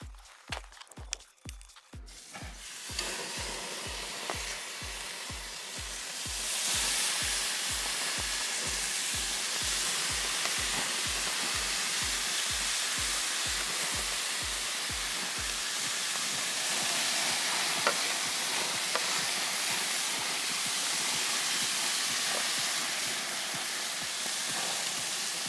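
Marinated Costco steak sizzling on a Weber grill, a loud, steady frying hiss that builds after a few seconds and holds evenly, with a regular low clicking pulse underneath early on.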